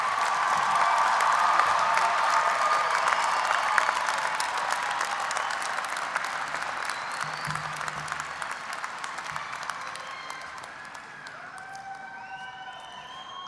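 Audience at a Hofstra University mid-year commencement ceremony applauding graduates, a loud sustained wash of clapping from a large crowd with some cheers, gradually thinning out toward the end.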